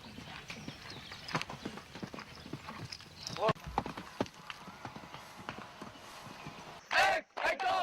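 Horses ridden by cadets at a military academy, their hooves clip-clopping in an uneven, overlapping rhythm at close range, with a sharp whinny near the end and a voice speaking over the scene.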